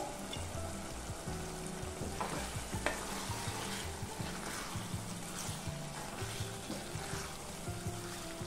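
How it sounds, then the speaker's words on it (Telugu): Mutton keema curry with potatoes and peas being stirred in a pan after chopped coriander goes in, a continuous close scraping and soft sizzle with rhythmic spoon strokes, no voices. "తరిగి పెట్టుకున్న కొత్తిమీర వేసుకొని ఒకసారి బాగా కలుపుకుందాము"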